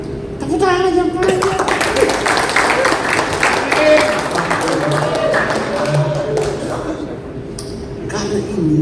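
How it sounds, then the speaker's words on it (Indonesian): A crowd claps in dense, sustained applause at a church group's political campaign gathering, with voices and shouts mixed through it and a speaker's voice over the top near the start. "tepuk tangan aja"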